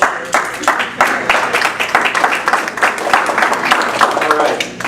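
An audience claps hands in a room, a dense, ragged burst of many hands with sharp individual claps, fairly close and loud, fading slightly at the end.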